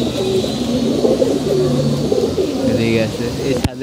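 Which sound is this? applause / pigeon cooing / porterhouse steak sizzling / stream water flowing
pigeon cooing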